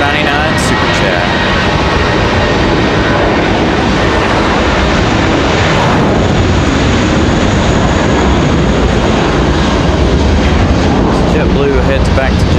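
JetBlue jet airliner at Raleigh-Durham International Airport, a loud, continuous engine roar with broadband rumble that holds throughout.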